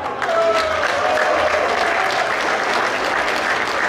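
Steady, dense audience applause fills a tent-hall crowd at a Pompdagen event, loud and continuous throughout with a faint whistle-like tone early on.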